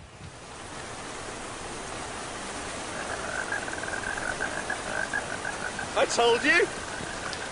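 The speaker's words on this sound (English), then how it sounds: "It's raining." Rain from a cloud made by a hydrogen engine hisses down steadily, and the wash of drops swells gradually. A voice speaks briefly near the end.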